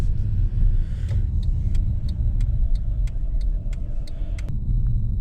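Mercedes-Benz CLS 63 AMG engine holds a deep, steady idling rumble close by, with a series of faint regular ticks or chimes over it; no talk.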